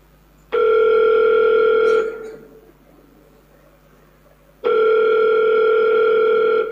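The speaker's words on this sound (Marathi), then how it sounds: "या रम्याला फोनच लावायला हवा." A telephone gives two long, steady ringback tones as someone places a call. Each tone is loud and close, and there is a pause of a couple of seconds between them. Nobody speaks.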